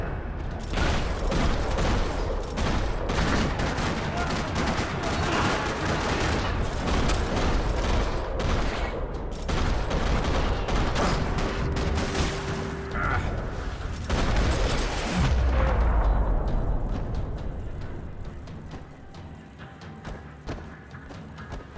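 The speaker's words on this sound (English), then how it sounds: "Another parking lot rattling with gunfire." Gunfire erupts across a parking lot in the video game Max Payne 3, with loud, dense overlapping bursts and rattling shots filling the scene before tapering off near the end, alongside mechanical clatter and no speech.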